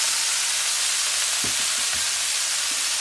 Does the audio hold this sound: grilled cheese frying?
yes